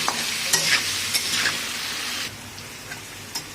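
Potatoes fry in oil with salt and turmeric, a close bright sizzle broken by scraping strokes of a spatula stirring them, the hiss easing slightly toward the end.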